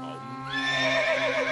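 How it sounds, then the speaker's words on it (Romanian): A horse on a farm gives a clear, wavering whinny close by, rising after a brief quiet moment and trembling to the end. "Hei, calul ăsta vrea să mănânce părul."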